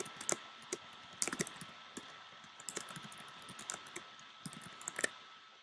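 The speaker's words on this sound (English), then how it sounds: "I can type in something else" Quick, irregular clicking of keys on a computer keyboard while replacement text is entered into a marketing design template, with light taps coming in short bursts over a quiet room.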